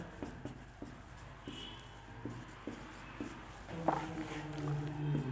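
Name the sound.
writing an equation on a board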